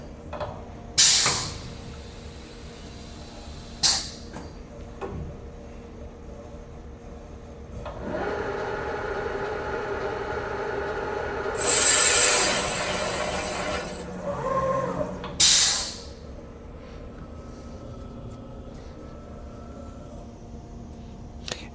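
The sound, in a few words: Rottler F10XS boring machine cutting hole in Chevrolet V8 block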